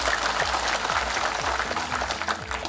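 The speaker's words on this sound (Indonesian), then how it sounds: "Tepuk tangan untuk beliau." A crowd applauds at an outdoor ceremony in a village in Central Sumba, where the regional head is speaking. The clapping forms a loud, continuous wash under a low droning sound that bends in pitch.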